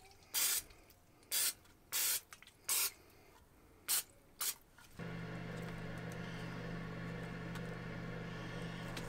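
Olive oil sprays into small mini loaf pans for a Ninja Foodi Grill in short, sharp hissing bursts, about seven quick puffs, followed by a steady low hum of the surroundings.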